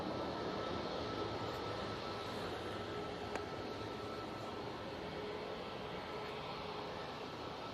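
An airliner departing Manchester Airport for Helsinki gives a steady, distant broadband roar that holds evenly throughout, faint and unbroken, with no talk.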